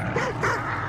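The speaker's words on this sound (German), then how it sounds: "Da hinten sind die Hunde, wollen wir die killen?" Dogs barking in Hunt: Showdown, two short yelping barks in quick succession within a second, moderately near and loud over a low background rumble.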